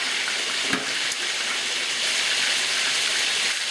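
Pork chops sizzle and fry steadily in a pan for Spanish-style pork chops, a constant dense hiss with a couple of soft knocks from the utensils and no talking.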